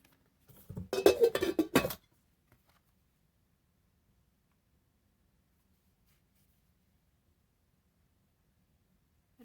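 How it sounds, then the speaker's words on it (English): 2.5-quart blue and white enamelware Dutch oven handled with a quick cluster of clinks and knocks lasting about a second, followed by near silence. "it's in a little Enamelware Dutch oven"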